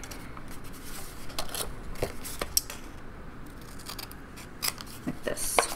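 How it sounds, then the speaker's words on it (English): Scissors snip through paper, trimming file-folder mini album pocket corners at an angle, with a few crisp cuts scattered under ongoing talk close by. "I just take them and cut them at an angle like this"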